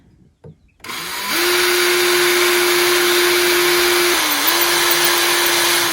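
A power drill bores a drainage hole. It spins up into a loud, steady whine that holds level, then briefly drops in pitch under load before settling back. A couple of faint knocks come first.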